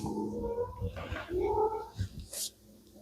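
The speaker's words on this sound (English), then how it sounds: "Kitty, oh, kitty." A cat indoors gives a few drawn-out, wavering meows close by, with short pauses between calls and a brief hiss-like burst near the end.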